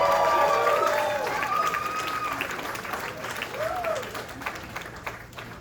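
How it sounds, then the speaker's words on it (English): A club audience applauds and cheers at a live comedy show, the clapping loud at first and then gradually thinning out, with a voice speaking over the fading applause. "hold for aggressive applause"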